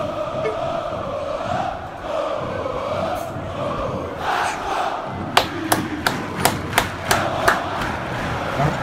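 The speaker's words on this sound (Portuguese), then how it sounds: "tá com áudio de fundo da torcida gritando" Football fans at a Copa Camisa 12 quarter-final match shout and chant as a loud, continuous crowd roar, followed by a run of sharp, rhythmic thumps or claps near the end.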